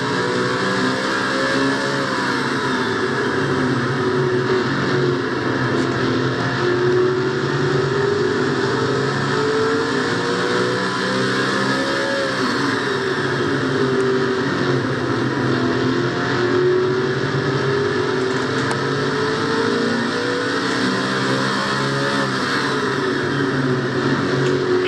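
On-board race car in a Castrol GTX Cup race, engine screaming continuously near 9,000 RPM with rising and falling revs through gear changes, loud and close throughout.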